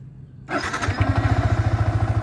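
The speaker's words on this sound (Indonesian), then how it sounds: "Oke, saatnya kita nyalain motor. Jadi kita dengerin suaranya bareng-bareng" A Yamaha YZF-R15 V3 motorcycle engine cranks and fires up after a quiet moment, then settles into a close, loud, rhythmic idle.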